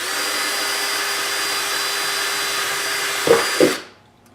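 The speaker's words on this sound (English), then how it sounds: "you can use a drill bit, and you'll just drill until the bit goes through" A power drill runs at a steady high whine while boring drainage holes in a plastic container, ending with two short bursts and a quick spin-down.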